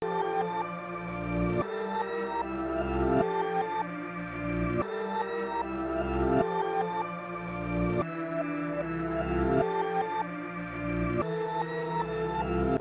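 A chopped sample melody for a trap beat: rich layered musical slices cut into repeating segments about every second and a half, looping steadily at moderate loudness with a low bass underneath.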